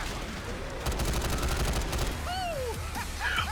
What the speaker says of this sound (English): I'm using the slow rate of fire on the SIG.